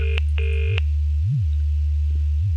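An electronic telephone rings in the Dark Fall: The Journal video game, two short bursts of a bright warbling tone over a steady low drone.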